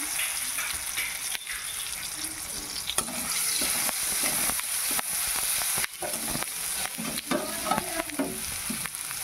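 Chopped tomatoes and onions fry in a pan with a constant loud sizzle, while a utensil repeatedly stirs and scrapes the pan throughout.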